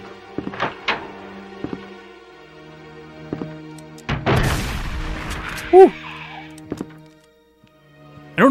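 A shotgun fires in Resident Evil 1, played in first person: several sharp booming blasts at irregular intervals, with clicks and thuds between them and a longer rumbling burst near the middle.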